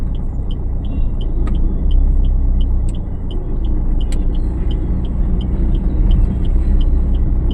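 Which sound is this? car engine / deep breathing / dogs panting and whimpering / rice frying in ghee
car engine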